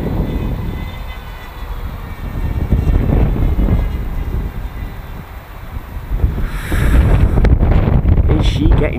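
Steady whining drone from the 2350 kV electric motors of an S1100 Harrier RC plane flying in 25 mph winds, gusty wind buffeting the microphone, growing louder and rougher toward the end at full throttle.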